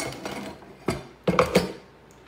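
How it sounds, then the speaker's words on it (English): A blender lid is set onto the jar in a kitchen while making a fresh lemon drink, giving a few close plastic clunks and knocks clustered in quick succession. "Lid goes on."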